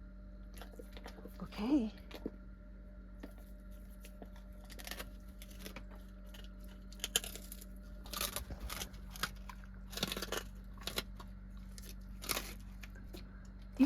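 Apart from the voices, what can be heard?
chewing and biting a duck neck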